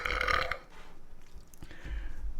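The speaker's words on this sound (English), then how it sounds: "I'm going to belch" A single close, fairly soft belch after drinking Coca-Cola, short and throaty, with no talk over it.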